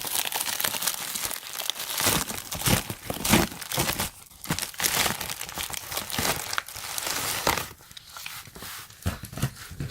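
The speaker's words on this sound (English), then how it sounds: "So let's go ahead and then get this unboxed." Packaging of a TOPDON OBD2 code scanner, a standalone car and truck unit, crinkles and tears continuously as it is unboxed; loud, close, irregular rustling and crackling with no talking.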